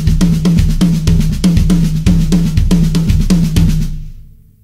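A fast drum fill on a kit rattles out in five-note sixteenth-note groupings, punchy accented strokes repeating in quick even cycles up close, then cutting off into silence with a short decay.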